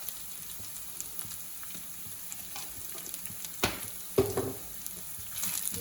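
Chicken liver fries in a pan with garam masala as it is stirred; a quiet, steady sizzle with a few louder scraping strokes near the end, close and without speech.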